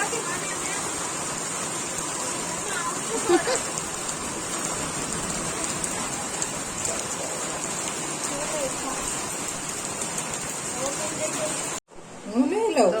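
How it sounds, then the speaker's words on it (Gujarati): Steady heavy rainfall hisses and patters nearby, with a person talking under the downpour before a brief abrupt break near the end. "વરસાદ સારો આવે છે"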